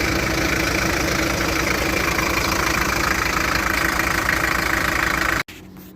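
A truck engine idles steadily with a rough, knocking rumble, loud and close, running continuously before cutting off abruptly near the end.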